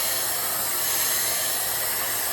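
A hair dryer blows steadily while styling hair at a salon, giving a loud, constant rushing hiss of air with no pauses and no speech.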